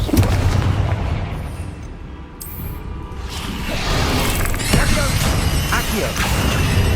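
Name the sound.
Confringo spell explosion, from video game Hogwarts Legacy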